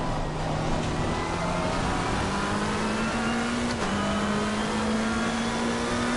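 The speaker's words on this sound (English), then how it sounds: "Listen to the sound of the McLaren, though, man" A McLaren race car in Assetto Corsa Competizione on the Brands Hatch circuit, its engine droning steadily and loudly at high revs with a slight pitch rise, with no talk over it.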